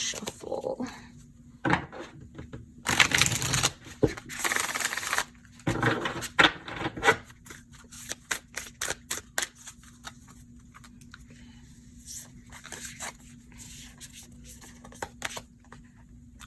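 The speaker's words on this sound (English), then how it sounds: "Let's give one shuffle." Bursts of riffling tarot card shuffles, a few loud flurries early on, followed by scattered soft taps and clicks over a low steady hum.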